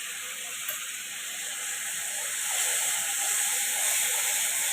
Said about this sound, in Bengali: এই যে আমি গরম জল দিচ্ছি অল্প করে